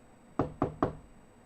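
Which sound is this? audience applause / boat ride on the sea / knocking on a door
knocking on a door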